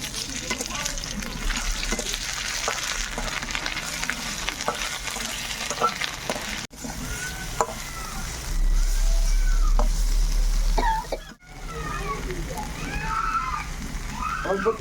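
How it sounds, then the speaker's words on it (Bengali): Potatoes and ginger frying in a pan for a Bengali fish curry, a steady loud sizzle with bursts of stirring and spatula scrapes, briefly quieting twice, with no talk over it. "আলু ভাজা হয়ে গেছে, আমি আদাটা দিয়ে দিই।"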